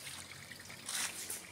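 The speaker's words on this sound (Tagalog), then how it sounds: "Maliit na waterfalls." Steady trickling water, like a small waterfall, with a brief louder splashy surge partway through.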